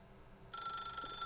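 In the video game The Stanley Parable, a telephone starts ringing abruptly partway through, a bright continuous electronic trill that stays steady and fairly loud to the end.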